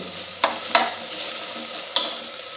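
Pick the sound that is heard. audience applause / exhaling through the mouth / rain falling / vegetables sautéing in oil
vegetables sautéing in oil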